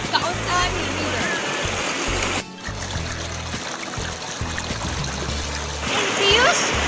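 Water of the Kausan River flows with a steady trickling, splashing rush that runs throughout, while people talk over it.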